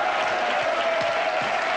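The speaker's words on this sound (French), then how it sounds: "Nolwenn, applaudissez-la" Studio audience applauding on a French TV show, a steady wash of clapping throughout a brief moment.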